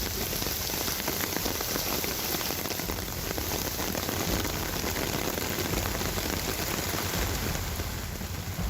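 Heavy monsoon rain pours steadily in Sion, Mumbai, with the streets and railway tracks flooded. It makes a dense, loud, unbroken hiss of drops drumming on surfaces, with no voices.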